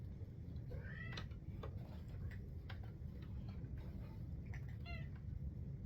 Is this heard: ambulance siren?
no